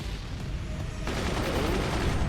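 Several gunner weapons firing in the physics-based fort-battle game Forts, a steady dense barrage of overlapping shots and booms that grows slightly heavier after the first second, heard without speech.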